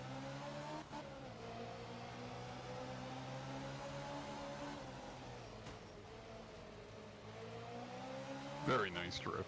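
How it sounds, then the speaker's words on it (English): A Group 2 rally car drifting in art of rally, the engine holding a steady droning pitch that rises and dips through the slide, ending with a brief tire squeal; voices talk faintly underneath. "Very nice drift."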